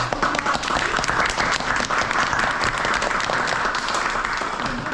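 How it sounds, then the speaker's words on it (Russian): A crowd at a youth assembly event in Yakutia claps in dense, sustained applause that fills the room and stays loud and even throughout. "Похлопаем"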